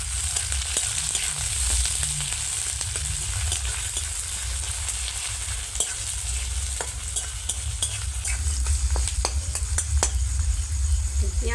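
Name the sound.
chopped onion frying in hot oil with spices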